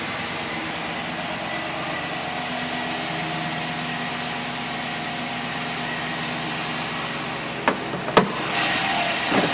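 A 2012 Chevrolet Silverado 1500 regular-cab short-bed 4WD work truck engine runs at a steady, smooth idle throughout, with a couple of sharp clicks or knocks near the end and no talk.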